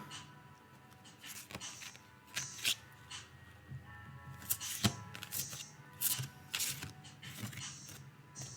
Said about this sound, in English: So I'm shuffling my cards